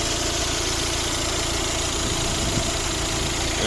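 A 2012 Volvo V60 1.6 diesel engine idles steadily with a low, even rumble and slight vibration, running alone with no voices.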